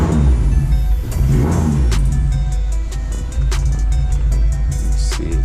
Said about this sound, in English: gonna not touch the gas and see how it cold starts